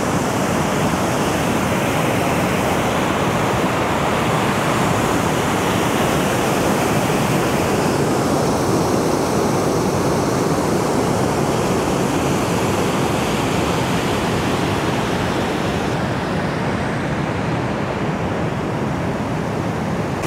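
Water pours steadily out of a landslide lake's left bank outlet, a loud, continuous broadband rush close by that holds unbroken from start to finish with no voices.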